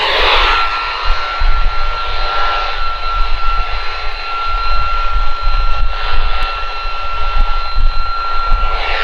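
Merodith MD-222 radio with squelch open on a noisy broadcast, giving a loud, continuous hiss and rumble with a steady high whine throughout, close up and without speech.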